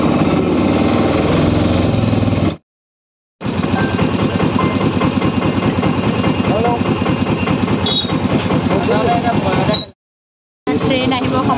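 A train heard as a loud, continuous rumble with engine drone and faint rhythmic rail clatter, running through three segments separated by short silent gaps.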